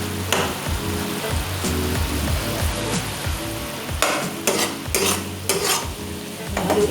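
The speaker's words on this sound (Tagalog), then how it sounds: "Haluin natin." Beef steak sizzles and fries in a pan while a utensil stirs it, giving a steady close sizzle broken by several sharp scraping clatters toward the end, with no talking.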